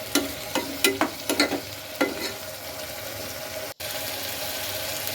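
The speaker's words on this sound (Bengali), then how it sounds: "পেঁয়াজটাকে ভেজে নেব" Onions sizzling and frying in a pan for chicken curry, with a few scraping stirs early on, steady hiss throughout, close and fairly loud.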